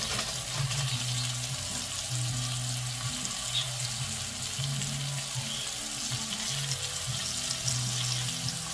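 Onion cooking in a pot for butternut squash soup, giving a steady, even sizzle and hiss that stays close and continuous with no talking over it.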